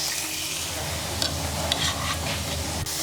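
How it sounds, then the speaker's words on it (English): Onions and seasonings sizzle steadily in a hot pan in a home test kitchen, with a constant close frying hiss and a few faint clinks and stirring scrapes, no talking. "Now that our pan is hot, we're going to go ahead and start adding in our seasonings."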